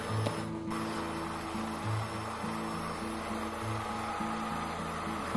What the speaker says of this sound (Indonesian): Baru kemudian kita tingkatkan kecepatannya hingga kecepatan paling tinggi hingga adonannya kental dan berjejak.